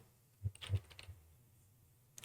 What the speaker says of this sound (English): you might want to type in an app called Event.